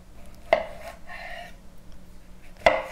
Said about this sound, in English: So I'll just chop off the ends of the cucumber.